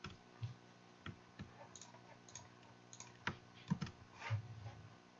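Keys tapped on a computer keyboard in sparse, irregular clicks, quiet and close, including a press of the Delete key, with no voices.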